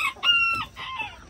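A molting silver duckwing Old English Game bantam rooster crows once, near and clear, a short series of harsh rising-and-falling calls.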